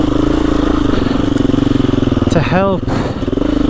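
A KTM EXC-F 350 enduro motorcycle engine runs loud and close at a steady pulsing idle-to-low rev on slow technical hard enduro terrain, with a brief rising-and-falling rev near the end; someone talks over it.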